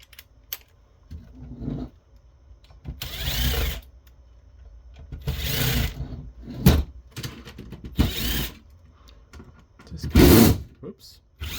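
Screws are backed out of a T-VIPS TVG430 HD-SDI to IP video gateway during a teardown. Several short, loud mechanical whirring bursts are separated by quieter gaps, and there are faint traces of a voice.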